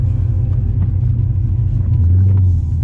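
A supercharged 5.7L Hemi car cruises on a highway, a loud, continuous low engine rumble from inside the cabin that swells slightly toward the end, with no speech.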